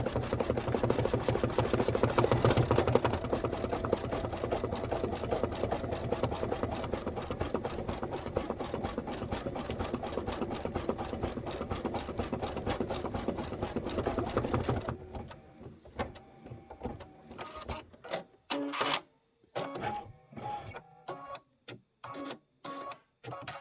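An embroidery machine stitches a marshmallow design for a Kimberbell Cup of Cheer mug, running as a steady rapid mechanical whir, then breaking into short start-stop bursts of stitching with brief pauses.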